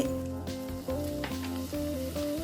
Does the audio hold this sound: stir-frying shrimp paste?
yes